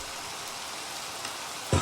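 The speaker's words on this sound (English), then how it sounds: "God, I wish this rain would stop." Steady rain pours down in Minecraft, a constant hiss of falling drops with no one talking, ending in a brief louder burst.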